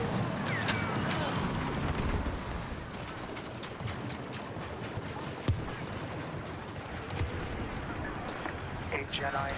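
Grenade blast and surrounding gunfire in the shooter game Star Wars Battlefront 2, with a sharp burst standing out from steady, crackling battle noise and scattered shots throughout.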